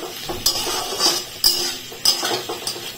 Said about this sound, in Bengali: দিয়ে আবার এরকম ভাবে ভালো করে মিক্স করলাম